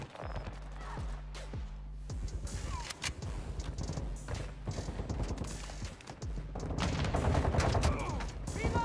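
Fake gunfire from a dummy grenade in the video game Call of Duty MW2 crackles as scattered rapid pops and bursts, mixed with other game sounds and building toward the end.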